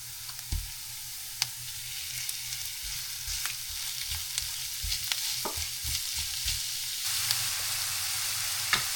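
Chopped onion and kefta fry in a pan for Tunisian mbaten, a steady soft sizzle with close scraping and tapping of a stirring utensil at irregular intervals, no talking.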